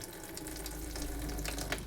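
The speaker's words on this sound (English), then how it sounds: "we're going to run all the hot water through" Hot water running from an RV kitchen faucet, a steady hissing, splashing stream into the sink, close and continuous with no talk.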